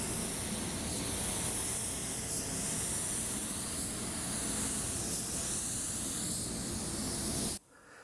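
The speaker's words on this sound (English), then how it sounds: "Now when applying the clear coat with this gun, I bump up the air pressure to about 30 psi, 28 to 30." A garage paint spray gun sprays clear coat at about 28 to 30 psi, giving a steady, loud, continuous hiss that holds for over seven seconds and then cuts off abruptly near the end.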